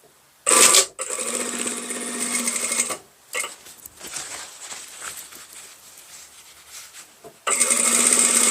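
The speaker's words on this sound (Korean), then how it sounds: "여기 노루발 반 간격으로 한 줄 더 박아줄 거예요" A sewing machine stitches a line on denim jeans in close, loud runs, first a short burst and then a longer stretch, with quieter handling sounds and brief pauses before it starts sewing again.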